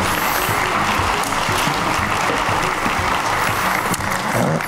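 Sustained audience applause welcoming Dr. Nicola Guess to the stage at a nutrition science talk, a dense, steady roar of many hands filling the room, loud and continuous throughout without talk.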